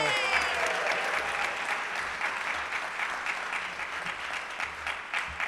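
Audience applause at a Rotary Club of Cincinnati meeting, steady dense clapping throughout, fairly close and even in level with no pauses.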